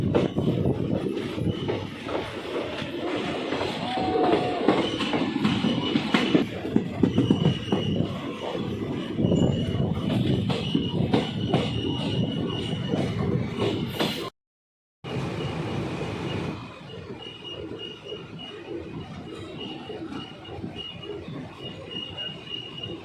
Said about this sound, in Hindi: 45 मिनट की देरी से चल रही है ट्रेन